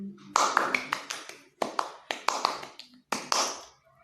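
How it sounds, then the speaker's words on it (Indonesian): Sharp hand taps strike in an uneven rhythm, with gaps of varying length between groups of close, dry hits, loud and alone with no talking. "Yang pertama itu tidak beraturan ketukannya, jaraknya itu beda-beda, tidak stabil."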